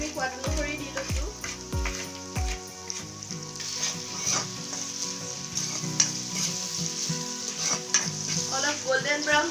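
Pieces of local chicken fry in a pan until golden brown, with a constant sizzle and occasional stirring under prominent background music.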